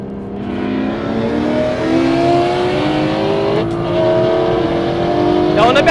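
An 850 hp Shelby GT500KR and a 700 hp Nissan GT-R launching side by side in a drag race, engines revving and climbing steadily in pitch, loud and close, with a brief sharp crackle near the end.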